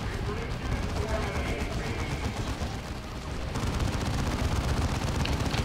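Continuous gunfire and battle noise from the Dawn of War 2 strategy game, a dense steady fusillade that runs throughout with a voice talking over it.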